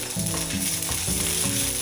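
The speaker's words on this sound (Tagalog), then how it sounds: "Ngayon una, prito muna natin itong ating baboy." Pork frying in a pan gives a steady, close sizzle that runs through the whole clip, partly covered by louder background music with shifting tones.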